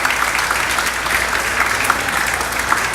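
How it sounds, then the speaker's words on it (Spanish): An audience claps steadily for three presenters at an educational innovation conference, a dense, even wash of applause lasting throughout. "Un aplauso a nuestros 3 expositores."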